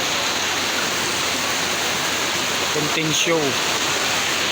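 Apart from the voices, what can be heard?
heavy rain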